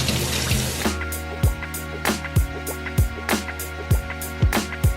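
Water runs from a tap into a pot for Southern sweet tea, starting with a rushing pour and then settling into a pulsing flow with rhythmic knocks, heard up close.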